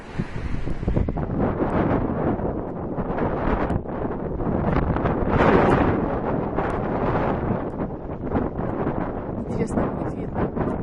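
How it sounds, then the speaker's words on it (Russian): Strong Canadian wind blows outdoors around blossoming maple trees, a continuous close roar of buffeting gusts that swells loudest midway through before easing slightly, with no other sounds standing out. "Посмотрите, какой ветер."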